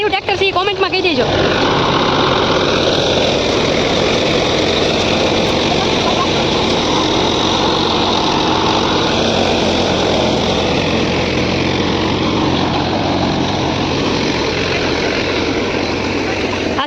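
A tractor engine drives a millet thresher, opening with brief clatter before settling into a loud, continuous droning roar that holds steady to the end.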